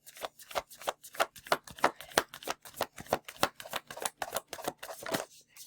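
A deck of cards is shuffled for a rune stone reading, a rapid run of crisp riffling flicks in quick rhythmic bursts, close and fairly quiet with no voice over it.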